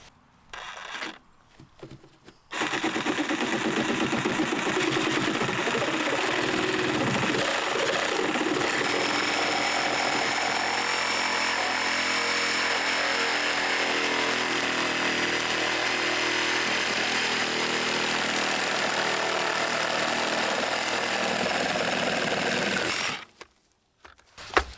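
A power saw cuts wood right beside a trailer floor joist, a loud steady high-pitched whine running for about twenty seconds before stopping, with brief handling noise at the start and end.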